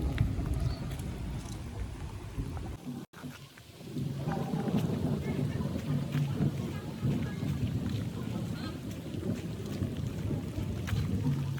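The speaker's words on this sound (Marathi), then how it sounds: "बघा किती पाऊस आहे." Heavy rain pours steadily during a village fair in Satara, a dense broadband roar with gusty wind noise, loud and continuous apart from a brief dropout near the start.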